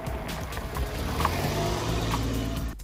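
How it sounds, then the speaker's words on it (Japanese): Propeller shaft in a Suzuki Every DA17V van rattling and vibrating as it turns, a steady droning hum with low rumble and faint metallic buzz, continuous throughout with no voices. "このねシャフトの音がねなかなかね悩ましいんですよね。"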